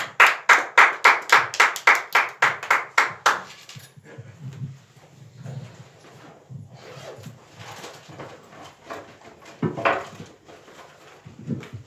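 A church congregation claps in a fast, even rhythm, about a dozen sharp close claps, then the clapping breaks into scattered handclaps and murmuring with faint voices.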